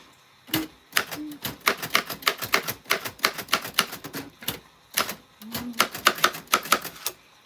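Rapid, uneven keystrokes on a typewriter with paper loaded, loud and close, clacking in quick bursts with a short pause midway and no voices.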